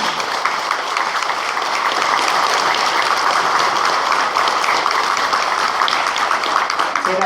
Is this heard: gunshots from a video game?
no